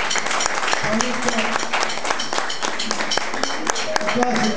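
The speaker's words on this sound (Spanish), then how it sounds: "Un aplauso muy grande." Crowd applause for the hosts at a live reggae music event on tour in Río Cuarto, steady dense clapping throughout with voices talking and calling over it.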